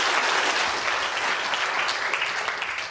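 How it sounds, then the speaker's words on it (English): A burst of enthusiastic applause from an audience, dense and even throughout. "Big round of applause for Professor Claire Smith."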